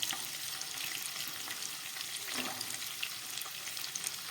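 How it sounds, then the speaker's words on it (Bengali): Beans and peas stir-frying in a pan for restaurant-style mixed fried rice, a steady hissing sizzle with soft stirring scrapes, close and continuous without talk. "এই সবজিগুলোকে প্রথমে আমি একটু ফ্রাই করে নেব"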